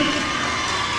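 A crowd at a high school boys basketball game between Vinton County and Nelsonville cheers and shouts in a loud, sustained roar filling the whole moment.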